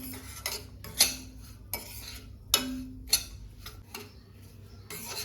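A spoon stirs and scrapes semolina (rava) roasting in a metal pan, with sharp clinks against the pan at irregular intervals over a low, steady background.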